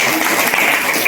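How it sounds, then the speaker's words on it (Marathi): An audience claps steadily throughout a short burst at a mothers' and parents' gathering and haldi-kumkum function held at a zilla parishad primary school in Walangwadi, Selu, Parbhani. "टाळ्या वाजवा राजा."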